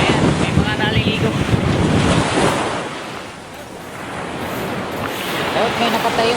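Strong wind and crashing surf batter Dinahican Beach in Infanta, Quezon during Typhoon Pepito, a loud continuous roar with wind buffeting the microphone that swells and eases.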